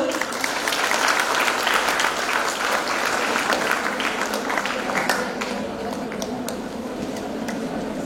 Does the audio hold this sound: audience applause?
yes